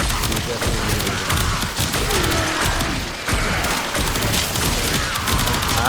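Dante's floating book in Warframe fires alongside the player in a dense, continuous barrage of layered combat blasts and thuds, loud and close, with no clear pauses.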